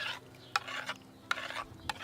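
Tanning salts being stirred into hot, not boiling, water, giving soft repeated scraping swishes about every half second, close and fairly quiet.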